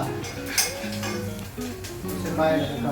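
Cluster beans curry being mixed in a pan for pachipulusu, giving soft scraping stirs and an occasional utensil clink under a steady voice-like tone, close and moderately loud.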